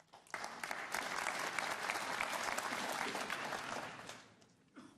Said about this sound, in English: he gets a clap